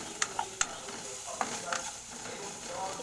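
Chow mein frying in a pan with a little oil, salt and a touch of turmeric: a steady close sizzle with several sharp scrapes and clinks of a spatula stirring the noodles.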